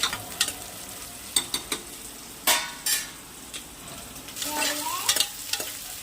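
Onions and green chillies with curry leaves frying in a pan until golden brown, a low continuous sizzle broken by scattered spoon scrapes and taps, close by with no talking.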